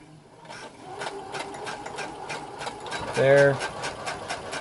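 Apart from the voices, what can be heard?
sewing machine stitching a pilot harness belt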